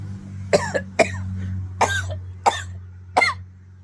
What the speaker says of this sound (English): it tickles my throat and makes me cough